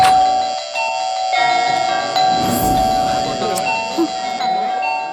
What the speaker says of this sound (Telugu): ఎందుకురా నాన్ స్టాప్ గా కాలింగ్ బెల్ కొడుతున్నావు?